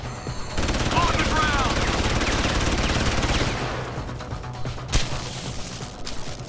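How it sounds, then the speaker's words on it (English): Rapid bursts of automatic gunfire rattle loudly for several seconds during a riot in the video game Deus Ex: Human Revolution, then trail off into scattered shots and background commotion, with a sharp crack near the end. "Is it really wise to fire off gunshots in the middle of a riot?"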